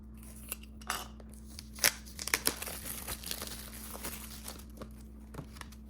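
Plastic packaging on manga volumes crinkles and tears as it is opened, with light scraping and rustling, a few sharper crackles and handling sounds throughout, close and fairly quiet.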